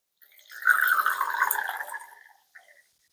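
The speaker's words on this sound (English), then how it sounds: "I'm going to go ahead and pour some hydrogen peroxide in here." Hydrogen peroxide poured into a container for orchid flasking, a short soft trickling splash of about two seconds followed by a tiny drip, alone and close.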